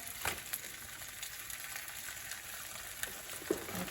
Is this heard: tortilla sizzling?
yes